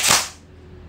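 A single sharp crack from an E&C 308 M4 CQB airsoft rifle, modified for power, firing once up close and decaying quickly with a faint hum behind it.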